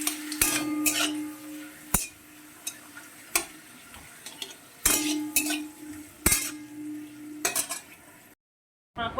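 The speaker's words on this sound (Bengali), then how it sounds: "একটু একটু করে ভেজে নেব, বেশি তেল দিচ্ছি না।" Papad pieces fry in a little oil in a wok with soft sizzling, punctuated by sharp metallic clinks and scrapes of a utensil against the pan at irregular intervals, loud and close.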